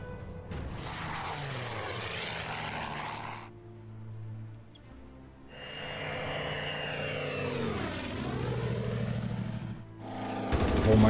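Russian Air Force warplanes in the Order of Battle strategy game, a sustained propeller-engine drone that swells and fades twice, passing close, with no talk over it.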